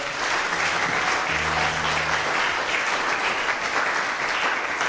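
A church congregation breaks into loud, sustained applause, dense clapping from many hands filling the room from start to finish, with a brief voice underneath early on.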